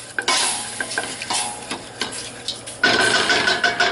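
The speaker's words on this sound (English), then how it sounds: "You can see it boiling away here." Football stew bubbling in a pot with wine added to cook off the alcohol: uneven pops and sizzling bursts, close and moderately loud, growing into a denser, busier bubbling toward the end.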